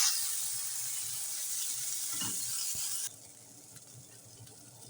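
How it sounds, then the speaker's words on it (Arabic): Eggplant frying with flour in a hot pan, a steady close hiss and sizzle throughout that drops noticeably quieter about three seconds in, with faint scraping or stirring and no talking. "هسه راح نروح ونقلي الباذنجان سوية. هنا عندي الطاوة حامية وراح أضيف فيها الدقيق"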